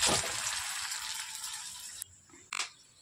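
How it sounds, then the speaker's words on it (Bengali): Sago pakora frying in hot oil, a bright bubbling sizzle that runs strongly for two seconds, then cuts out, followed by a brief clatter. "তো এখন সাবুর পকোড়া ভাজছি"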